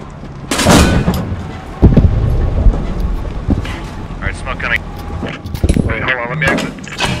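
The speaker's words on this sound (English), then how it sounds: "Yeah, we're shelling it" Artillery shelling in the WWII shooter Post Scriptum during a Panther tank match: heavy booming impacts, one sharp and loud early, rumbling under wind noise while several voices talk over it.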